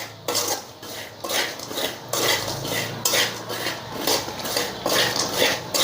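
Spiced peanuts being stirred in a pan, a spoon scraping and rattling the nuts against the metal in steady repeated strokes, close and fairly loud with no talking.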